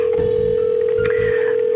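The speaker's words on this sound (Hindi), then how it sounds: "Pick up the phone, damn it, pick up the phone Barkha." A telephone call ringing out unanswered in a crime drama, a loud steady electronic tone with pulsing beeps, close and alone with no voices.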